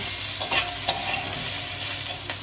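Oil sizzles steadily in a pan while a spoon stirs and scrapes through frying bitter gourd, with a few sharp clinks.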